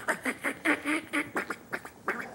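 A voice imitates a duck feed call with a steady run of quick, rhythmic quacking chatter, close and fairly loud, with about ten pulses in a row.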